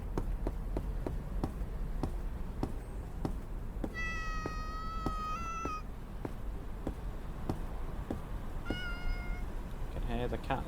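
A cat stuck up in a tree meows in the game Food Delivery Service, two drawn-out meows from above over a steady rhythm of light tapping footsteps.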